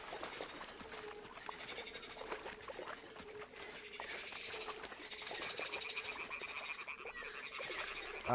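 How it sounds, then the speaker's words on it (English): Frog croaking in a dark horror-style video game, repeated low croaks over a steady ambient bed with higher chirping, moderately loud and fairly close, with no talk. "Oh, I heard a frog."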